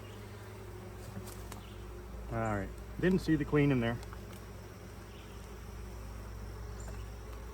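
Honeybees in a nucleus colony hive give a steady low hum throughout, close by, while a beekeeper talks briefly partway through.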